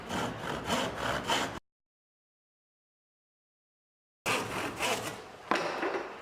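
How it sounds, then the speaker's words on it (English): Hand saw rasping through plywood taped with masking tape in steady back-and-forth strokes, close by, broken by a gap of silence before the sawing resumes. "start sawing through the wood"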